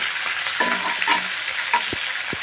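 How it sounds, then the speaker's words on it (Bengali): Cauliflower sizzling and frying in a pan while being stirred, with a steady close hiss broken by scraping stirs and soft knocks of the utensil. "কপিটা দিয়ে এভাবে একটু নেড়ে নিলাম, একটা একটু কষিয়ে নিলাম"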